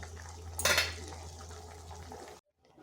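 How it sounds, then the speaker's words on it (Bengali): Steamed cauliflower tipped out so its water drains away, a short burst of clattering pot and splashing liquid near the mic, then the sound cuts off into near silence. "ফুলকপিগুলো একটু ভাপিয়ে নিয়েছি, তো এরপর এগুলাকে তুলে করে জলটা ঝরিয়ে নিচ্ছি।"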